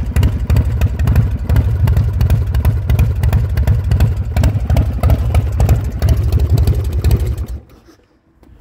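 A 2004 Redneck Engineering chopper motorcycle engine idles with a loud, close, lumpy throb and rapid steady pulses, then cuts out near the end.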